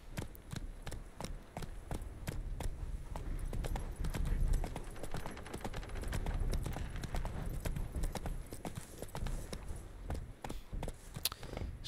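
Wild horses trot nearby in The Witcher 3, their hooves making a busy, continuous clip-clop of overlapping hoofbeats on the ground, moderately loud and steady throughout with no talk.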